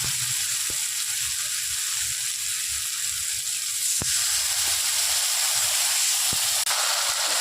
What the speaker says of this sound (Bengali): মশলাটা এবার ভালো করে কষিয়ে নিচ্ছে